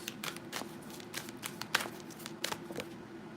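Love messages oracle cards being shuffled by hand, with quick papery riffles and soft slaps repeating in short bursts, fairly close and quiet with no talk.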